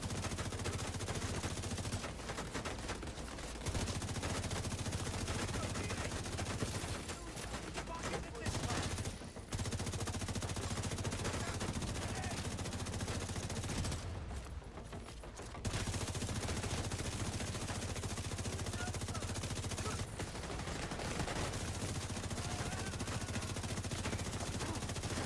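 Sustained automatic gunfire in The Division 2, dense rapid bursts that run almost continuously, with a few short pauses between volleys.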